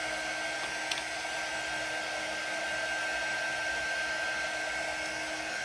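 Hair dryer blowing on wet white paint during holiday scene crafting, a steady close whooshing drone with a constant whine, unbroken through the clip.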